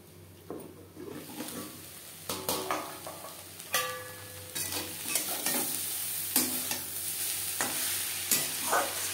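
Brahmi greens stir-fry in a pan over a gas flame, giving a continuous close sizzle broken by repeated scrapes and clatters of a spatula turning the leaves.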